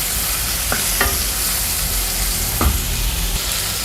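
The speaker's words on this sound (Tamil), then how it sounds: "இந்த வெண்டைக்காயை ஃபஸ்ட் நல்லா ரோஸ்ட் பண்ணிடலாம்." Okra fries in sesame oil with mustard seeds and urad dal, a loud continuous close sizzle broken by a few sharp scrapes of stirring, with no talking.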